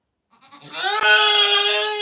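Goat on a farm homestead letting out a single loud, close, drawn-out bleat lasting over a second, alone without talk.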